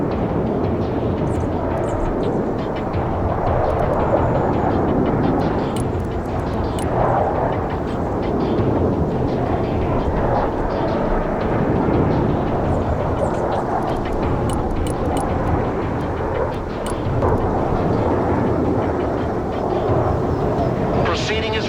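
Military aircraft in the Broken Arrow video game flying over a target area, a steady loud engine roar lasting throughout with a synthetic voice speaking over it.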